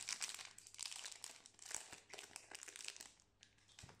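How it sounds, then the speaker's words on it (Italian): Crinkly plastic pack of trading card sleeves being handled and opened, soft close crackling and rustling in irregular bursts, quiet and intimate with no voices. "Apriamo le nostre sleeves."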